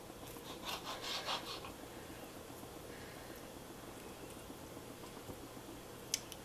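Knife slicing a minute steak into half-inch strips on a board, soft repeated sawing and rubbing strokes close by, fairly quiet, with a sharper tap near the end.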